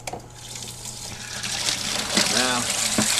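Water rushes out of an opened drain on a backyard aquaponics tank, a steady broadband gush that grows as the valve opens, with a brief voice partway through.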